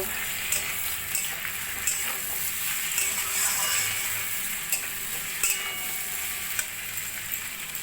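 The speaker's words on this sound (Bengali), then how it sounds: "সজনে ডাঁটাগুলো দিয়েও আমি দু তিন মিনিট মতো রান্না করে নেব" Drumsticks fry in a pan for Bengali shukto, giving a continuous close sizzle with regular scraping stirs and occasional utensil clicks against the pan.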